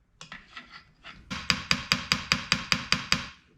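Metal tool tapping on a Shovelhead motorcycle transmission part, a few light irregular taps followed by a steady series of about ten sharp, ringing metallic strikes at an even pace, close and clear with no talk.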